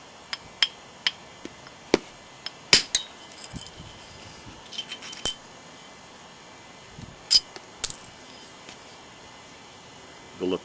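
Flintknapping a stone biface during thinning: a series of sharp, close clicking taps and a few louder cracking strikes, spaced irregularly with quiet gaps between.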